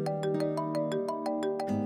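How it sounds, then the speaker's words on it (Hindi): A phone rings with a quick, repeating electronic chirp pattern, about ten rapid pulses over a sustained tone, fairly quiet. "ज़ैन का फोन है"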